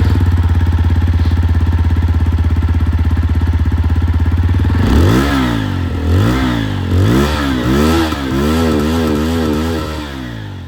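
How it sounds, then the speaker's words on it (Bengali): A TVS Apache 160 4V motorcycle exhaust idles with a steady, loud throb, then is revved repeatedly in sharp rising and falling bursts, close up with no talk. "Apache আওয়াজটা আপনারা শুনে নিয়েছেন।"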